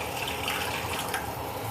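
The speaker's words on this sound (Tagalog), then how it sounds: "pwede na natin ilagay yung ating sabaw ng mackerel. Lagay na natin." Mackerel sardine broth thinned with water is poured into a cooking pot for sinigang, making a steady, continuous splashing stream of liquid at close range with no talking.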